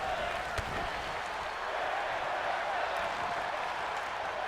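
A WWE 2K24 wrestling arena crowd roars and chants in a dense, steady wash of cheering and applause, loud and continuous with a few sharper claps poking through.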